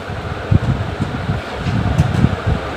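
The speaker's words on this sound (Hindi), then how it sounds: "एक मिनट पंखा बंद करना, मैं पंखा बंद करके आता हूं" An electric fan runs indoors with a steady broadband whoosh, close and even, broken by a few soft low thumps.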